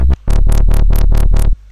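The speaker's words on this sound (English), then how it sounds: "you can download the wobble bass that I've put in one of my videos" Dubstep wobble bass synth sample in FL Studio, a loud, heavy bass tone pulsing in seven rhythmic wobbles after a brief stutter, then cutting off, with nothing else audible.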